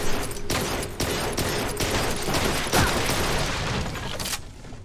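Rapid gunfire bursts from the light gun shooter game Blue Estate crack repeatedly in quick succession, loud and close, with short gaps between volleys.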